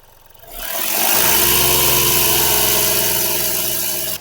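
A Kia Rio diesel engine with a DPF fault is raised to a steady 2000 RPM, a loud, close, continuous hum and drone that swells quickly from idle and holds evenly.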